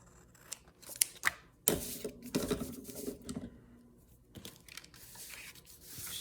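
Scissors snipping and trimming paper for a junk journal, a few crisp cuts and rustles close by, uneven and scattered, with light paper handling between them.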